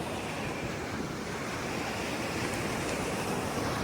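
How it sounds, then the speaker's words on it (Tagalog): Strong ocean surf roars continuously during a typhoon, with waves crashing close by over a rocky shore and wind buffeting the microphone. "Ang lakas ng alon."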